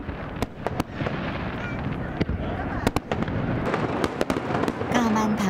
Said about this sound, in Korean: 이 마을 사람들 대부분은 불꽃놀이를 처음 구경한다고 합니다.